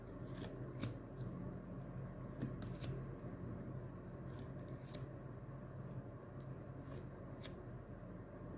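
Tarot cards being shuffled by hand, soft riffling with sharp periodic snaps every second or two, quiet and close in a still room.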